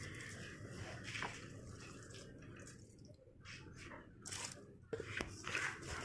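Water is poured onto potted plants including aloe vera, with faint trickling and dripping, soft splashes and small knocks against a quiet outdoor background.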